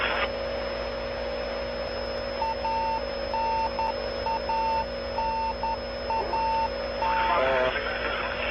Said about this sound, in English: familiar radio beacon